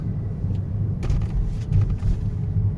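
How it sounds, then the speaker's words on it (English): A Mercedes-Benz C280 4Matic rolls over a speed bump: a steady low engine and road rumble with a couple of soft thuds and clunks from the suspension, heard from inside the car. "Come over the speed bump."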